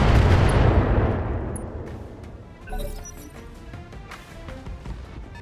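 Defensive turrets firing at mechs in a BattleTech battle: a loud booming blast fades into a rumbling decay, followed by a second, softer impact and scattered metallic clatter.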